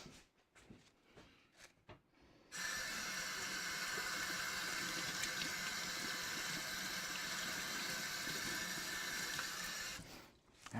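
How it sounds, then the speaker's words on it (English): Tap water runs steadily into a sink as hands are washed in a woodworking shop, a constant close hiss and splash lasting about seven seconds, with brief handling sounds before it and after the water is shut off. "I'm going to wash my hands."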